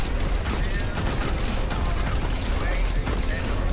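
Rapid, dense gunfire keeps up without a break as players mow down zombies in Call of Duty WW2's Nazi Zombies mode, loud and constant with talk running underneath.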